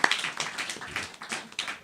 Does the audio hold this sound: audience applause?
yes